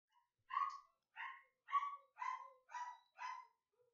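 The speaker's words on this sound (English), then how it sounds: "And the dog likes to go berserk." A house dog barks excitedly and repeatedly, with six evenly spaced barks at close range and no other sound around them.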